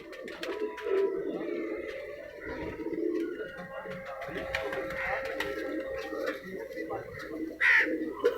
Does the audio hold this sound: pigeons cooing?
yes